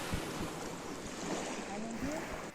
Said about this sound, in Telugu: బ్యారేజ్ నుంచి, మేడిగడ్డ బ్యారేజ్ నుంచి వాటర్